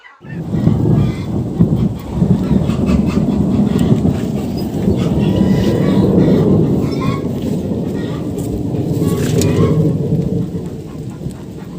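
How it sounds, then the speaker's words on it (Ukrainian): Low thunder rumbles on and on beneath a steady wash of rain, heavy and close throughout, with no break in the storm. "Як чуєте, до нас прийшла гроза."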